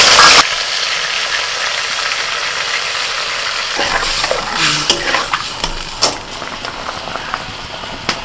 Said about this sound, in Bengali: টমেটোটা একটু ভেজে নিয়ে এবার দিয়ে দিচ্ছি সর্ষে বাটা